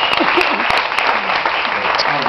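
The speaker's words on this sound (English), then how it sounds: "extra round of applause for the guys that are here" An audience claps at a Moth storytelling event at the Nuyorican Cafe, dense and sustained, while a voice speaks loudly over it.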